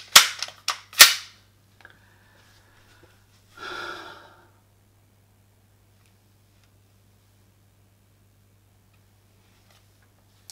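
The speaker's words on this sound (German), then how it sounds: "Wir schießen 6 Schuss in 15 Sekunden auf die linke Scheibe." Three or four sharp pistol shots crack in quick succession at a shooting target during a timed drill, followed by a short rustle and then long silence.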